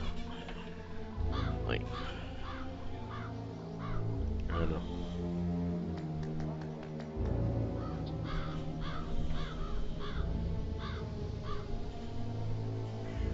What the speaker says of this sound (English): Damn birds. If I could just get clear hits on those nests.